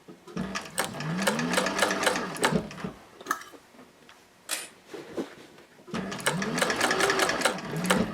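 A Techsew 4800 Pro sewing machine stitches a tote bag in two long, rapid bursts of needle clatter with a rising motor whine, separated by a quieter pause with a few clicks and handling sounds.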